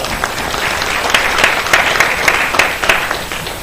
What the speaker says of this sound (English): so give yourself all a round of applause